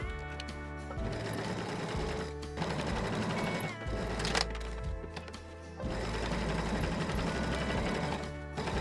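A sewing machine edge stitches three sides of a tote bag pocket, running in steady rapid bursts with short pauses between runs, close and clear.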